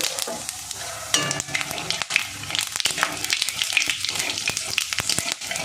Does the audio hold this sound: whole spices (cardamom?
yes